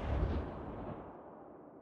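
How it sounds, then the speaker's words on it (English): A large submarine deck cannon fires a single heavy shot, a deep booming blast that rolls off into a long fading rumble with nothing else heard. "gunners manned the large deck cannon and opened fire"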